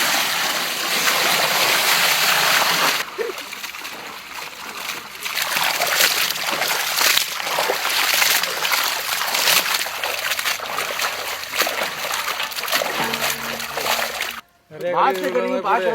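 Water poured and splashed for washing at an outdoor village cooking site: loud continuous sloshing and trickling, briefly dropping, with voices and a short burst of speech near the end.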